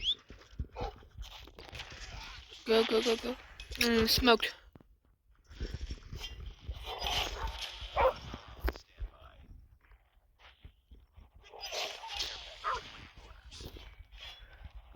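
Attack dogs bark in a few sharp bursts amid Call of Duty game sound effects, while a person talks over the action.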